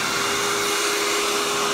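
Hoover Tempo Widepath U5140-900 upright vacuum in tool mode with an extension wand, a brief loud steady rush of suction air with a faint tonal hum, no speech.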